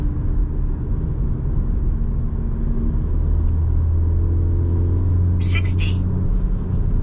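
A stock Hyundai Verna Turbo car pulls hard through a 100 to 200 km/h acceleration run, its engine a steady droning rumble beneath road noise, with a brief high chirp midway and quiet talk.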